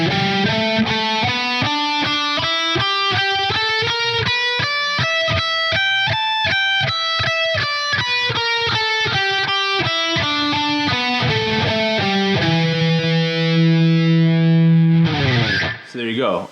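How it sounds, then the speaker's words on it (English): A distorted electric guitar plays a hybrid scale, minor pentatonic in the lower octave and blues scale in the upper, in a three-note-per-string shape, as a steady run of single notes up and down before settling on sustained notes. "here is the 3-note per string shape for the hybrid scale"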